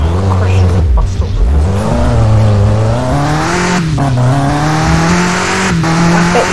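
A taxi in a video game crashes into a bus stop, loud engine roar with tires squealing and sliding, a continuous close rush with brief thuds, while a person talks over it.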